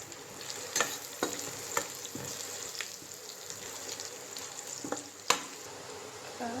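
Curry leaves, coriander and turmeric sizzle in a pan with ginger-garlic paste for vegetable pulao, a soft continuous frying hiss broken by scattered spoon scrapes and taps as they are stirred.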